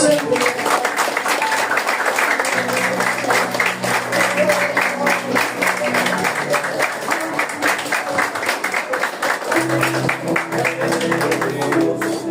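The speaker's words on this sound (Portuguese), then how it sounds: "Aplauda o nome de Jesus" Church congregation applauding at a 13th anniversary service, steady dense clapping throughout with sustained music or organ tones underneath and some voices mixed in.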